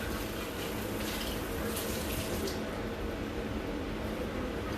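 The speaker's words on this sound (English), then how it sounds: "Just run the water over your glass." Hot tap water runs over a glass, used to warm glassware before pouring agar, a continuous splashing hiss that stays loud and steady throughout.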